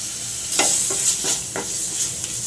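Chicken sandwich filling with chopped onions, vinegar and lemon stirred in a bowl, a series of about five soft, evenly spaced scraping strokes close by, with no talking.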